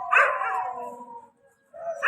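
A single dog gives a drawn-out, moderately distant bark or howl that fades, then a short yelp follows after a brief pause, with no talking.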